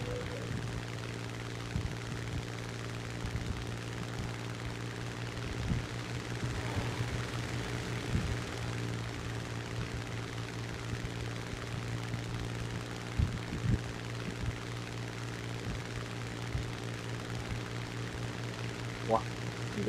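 Aircraft engine in the combat flight game War Thunder, a steady propeller-plane drone held throughout at moderate level, with occasional short clicks and faint voices in the background.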